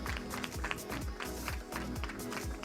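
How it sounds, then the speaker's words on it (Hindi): A crowd claps steadily and densely, a continuous wash of applause with no break. "अतुल जी के लिए जोरदार तालियां हो जाए"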